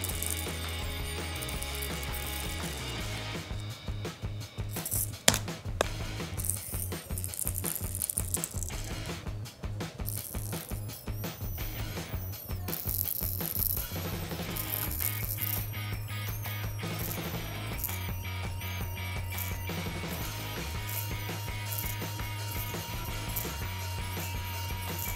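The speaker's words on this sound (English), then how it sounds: "The motor is running back and forth in speed, quite good." A homemade high-speed DC electric motor built from a coil and magnet runs steadily, its whirring, ratchet-like buzz sustained throughout and rising and falling in speed, with dense clicking texture and a few sharp clacks.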